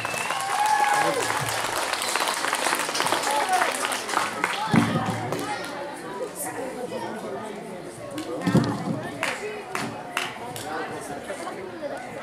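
Audience at a school festival and contest for Children's Day applauds steadily for several seconds, a dense patter of clapping mixed with crowd chatter, fairly near and moderately loud, with a voice speaking over it.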